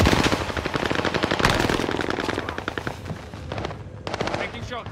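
Rapid sustained bursts of PPSh submachine gun fire in Call of Duty Warzone on Rebirth Island, loud and close with a fast, steady rhythm, plus brief pauses and other game sounds behind.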